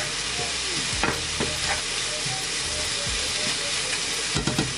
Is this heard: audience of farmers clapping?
no